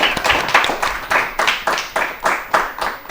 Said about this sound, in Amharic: እሺ አጨብጭቡላቸው፣ አጨብጭቡላቸው